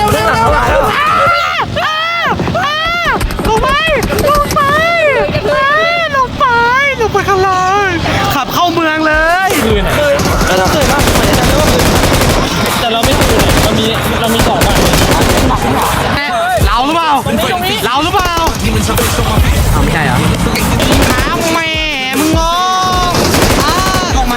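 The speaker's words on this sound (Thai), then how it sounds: "มีคนยิงมีคนยิงมีคนยิงมีคนยิง" Rapid gunfire crackles in PUBG, bursts of shots rattling under an excited, shouting voice that talks almost nonstop over the battle.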